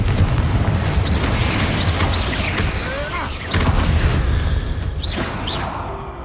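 A Confringo explosion spell goes off in Hogwarts Legacy. It comes through as a dense, loud, sustained roar of booming bursts and crackling debris over busy game noise, with short whooshing spell tones throughout.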